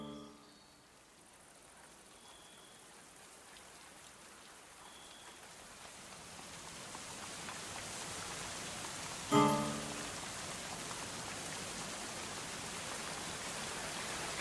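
Steady rain pours down in the medieval colony-building game Going Medieval, a continuous broadband hiss that slowly builds in loudness, broken by one brief louder clatter near the end.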